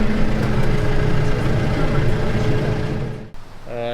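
A Landini 7175RS tractor engine runs steadily at a demo day, driving an arm-mounted INO Spyder Pro 6 mulcher, a loud continuous low drone that dips sharply near the end before resuming, with a voice briefly heard.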